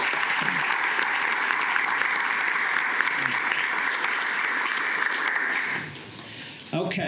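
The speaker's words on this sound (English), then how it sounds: "Let's give a big round of applause for Lee for 25 years." Sustained audience applause fills a county commissioners court during an employee service recognition, steady and dense for about six seconds before tapering off near the end.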